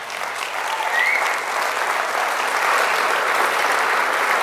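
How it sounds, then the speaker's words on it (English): A keynote audience claps for speaker Jess Todtfeld, a full, sustained round of applause from many hands that swells slightly early and holds steady to the end, with no voices over it. "Big round of applause for Jess Todtfeld"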